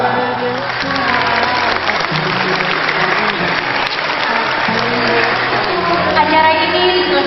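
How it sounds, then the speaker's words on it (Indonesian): Steady applause from an audience at an Indonesian gathering of Quran lovers, continuous and fairly loud across the whole stretch, with tonal voices or music running underneath. "mulai beri tepuk tangan."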